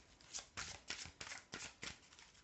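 Tarot cards being shuffled for a reading, six or seven quick riffling bursts close up in a steady rhythm that fade slightly toward the end, quiet and clean.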